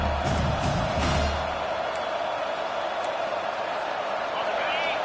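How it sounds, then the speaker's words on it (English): Stadium crowd roar swelling during a third-down defensive stand in a college football video game, Washington versus FAU, a broad steady wash of massed voices at the same level throughout with some louder bursts near the start. "Decibels rising as the crowd gets behind this defense on third down."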